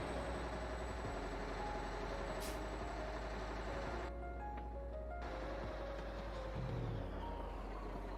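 Continuous low rumbling truck engine noise in a trucking video game, with a steady drone, a brief hiss partway through, and no voices.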